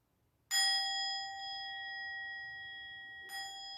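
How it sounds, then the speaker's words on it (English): A meditation bell at the close of a yoga session rings out clearly, its bright tone sustaining for nearly three seconds before being struck a second time near the end. "Letting the sound of the bell and the sound of my voice"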